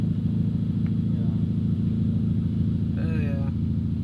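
A rebuilt Honda Civic Type R engine idles with a steady, deep low rumble that stays even throughout, and a brief faint higher sound appears near the end.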